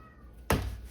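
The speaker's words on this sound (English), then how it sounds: "my cat meows behind me" A house cat lets out one sudden, close meow that is loud and brief against a quiet room and then fades out fast.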